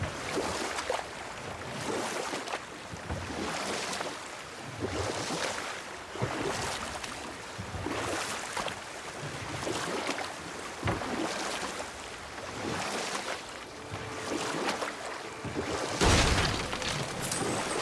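A boat glides across open water in God of War, with steady wind and waves washing against the hull in rhythmic surges and a continuous rushing hiss.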